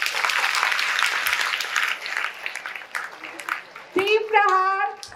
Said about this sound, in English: All of you, give a huge round of applause.